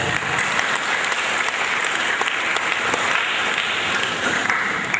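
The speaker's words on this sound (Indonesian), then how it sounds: "tepuk tangan, jangan malu, tepuk tangan aja" Steady applause from a crowd of children at a World Environment Day event in South Tangerang, continuous and fairly loud throughout with no letup.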